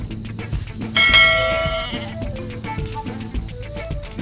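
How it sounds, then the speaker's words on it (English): A goat bleats once, a wavering cry rising above a steady rhythmic backing of bells and beats in a children's zoo animal piece. "goat, G, O, A, T, goat"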